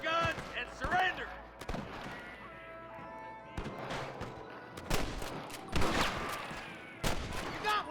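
Gunfire in the video game Red Dead Redemption 2: several sharp shots and bursts scattered through the stretch, some clustered in quick succession, with game noise and voices between them.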